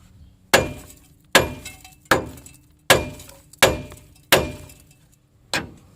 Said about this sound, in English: So I got my hammer here. Hit it a few times.